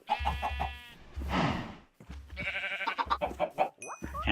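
Chickens in the Minecraft video game cluck in short, repeated bursts, several close calls in quick succession with brief gaps, alone without talk.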